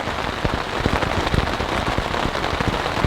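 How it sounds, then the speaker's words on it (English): Rain drums on a leaking military surplus tent during an overnight storm, a dense, steady patter of close drops with sharper individual hits, no voices. "still raining"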